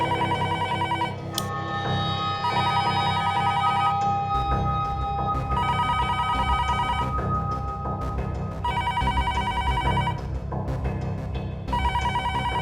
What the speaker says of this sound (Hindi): फोन उठाओ, जाओ, घबराओ मत